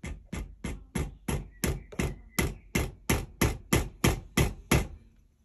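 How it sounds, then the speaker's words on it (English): Light hammer taps on a Pennsylvania long rifle to drive out its barrel, about fourteen evenly spaced sharp knocks in a steady rhythm, close and clear with no talking. "So I'll give it a little tap."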